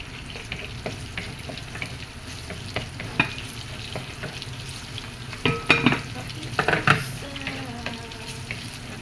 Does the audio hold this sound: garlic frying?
yes